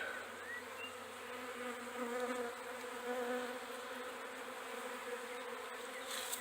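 A captured honeybee swarm buzzes inside a box, a dense continuous drone that holds steady throughout, close and moderately loud with no voices.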